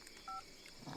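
A single short pair of telephone dialing tones, played while calling a friend, quiet and brief against a faint background hiss.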